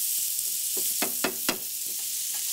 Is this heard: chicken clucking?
no